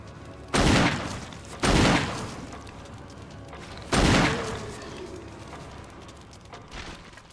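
Three loud, heavy gunshots from Barry's hand cannon in the Resident Evil video game, each a sharp boom with a lingering decay, spaced unevenly with no talk.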